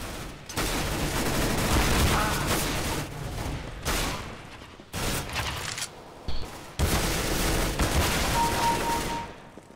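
Rapid bursts of rifle gunfire in a CS:GO match end in a double headshot. Loud, dense volleys are separated by short silent gaps, with a faint ping and a brief tone near the end.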